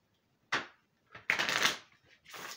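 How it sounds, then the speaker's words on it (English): Three quick bursts of a card deck being riffled and shuffled, close by, with short silent gaps between them. "With all the shuffling and pulling."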